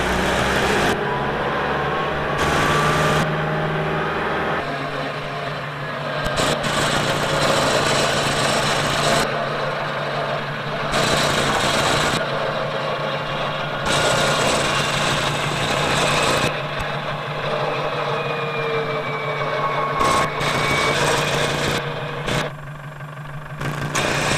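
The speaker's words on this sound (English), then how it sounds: "Rev it up a little and it does start charging a little faster, and it does reel the vehicle in faster." The engine of a 1994 LSVW soft-top cable layer prototype idles, then revs up in repeated bursts as it reels in cable. A steady rumbling drone runs throughout, and the louder rev surges alternate with lower stretches.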